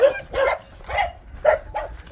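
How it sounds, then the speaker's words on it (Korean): Several dogs at a rural home with cows bark in a string of about four sharp, moderately loud barks spaced roughly half a second apart, close by, with no talk over them. "강아지들도 많고"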